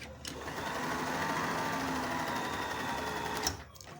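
An older-model Janome sewing machine running a straight stitch, a close, steady whirring motor drone with fast mechanical rattle that runs continuously for several seconds and then stops.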